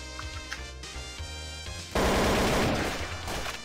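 Gunfire in the video game Garry's Mod TTT, a burst of loud, dense shots that suddenly takes over partway through, after a stretch of game music and ambience, with rapid reports running on to the end.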